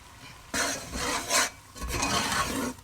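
Coriander and cumin being stirred into a turnip and meat curry in a home kitchen, a spoon rasping and scraping through the thick mixture in several strokes, close and moderately loud with no talk.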